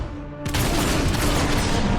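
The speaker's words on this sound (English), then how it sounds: "a single gunshot is enough to topple him off the top of the spire" A video game gunshot fired at a boss standing on top of a spire: one sharp, loud blast that hits abruptly after a brief quiet moment and leaves a dense, noisy wash ringing on until the end.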